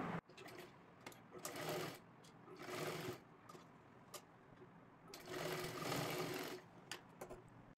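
Sewing machine stitching lehenga latkan fabric in close bursts, running in several separate runs with short pauses between them, no voices present.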